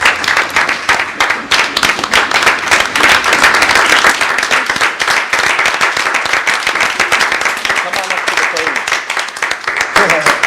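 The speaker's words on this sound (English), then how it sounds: "Will you please join me in clapping and standing for Miss Diane Cole?" A city commission meeting audience claps steadily, a sustained round of applause from a room full of people, with talking mixed in among the clapping.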